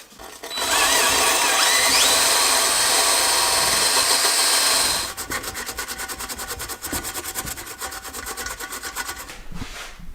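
An engine sealing surface on a turbo LS motor cleaned with a power tool, a loud abrasive whirring grind for several seconds, then a lighter, rougher scrubbing rasp continuing close by, no talk.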